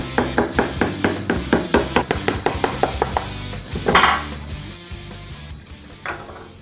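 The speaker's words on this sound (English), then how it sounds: "Carefully cut through the fiberglass and remove the center core." Fiberglass being cut by hand on a homemade wind generator, a rapid run of sharp, regular tapping knocks close by, then a louder crunching break and a few scattered hits fading out.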